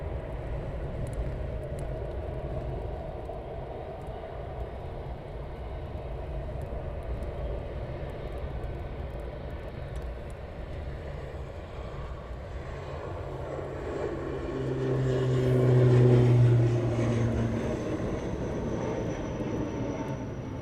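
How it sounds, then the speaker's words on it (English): Eurofighter Typhoon jets start up at RAF Coningsby, a steady, loud roar of jet engines that holds throughout and swells briefly near the end, with no voices. "Some more Typhoons to the south side starting up."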